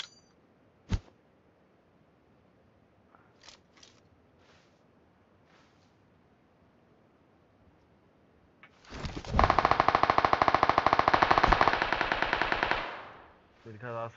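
Automatic gunfire in PUBG Mobile: after a mostly quiet stretch with one sharp shot and a few faint pops, a loud, sustained rapid-fire burst rattles for several seconds before cutting off.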